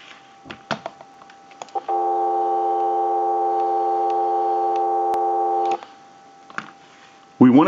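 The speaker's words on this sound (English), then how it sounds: "we'll give you some dial tone" Steady dial tone from a Western Electric Trimline telephone being repaired, a loud continuous tone running about four seconds, preceded and followed by brief clicks and handling noises.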